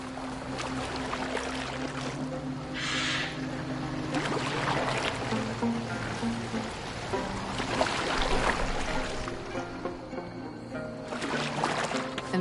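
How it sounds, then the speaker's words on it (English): A boat moving through water in Assassin's Creed Valhalla: continuous splashing and lapping of the hull against waves, with game ambience and low tonal music underneath, no speech. "Are you well enough to steer this boat?"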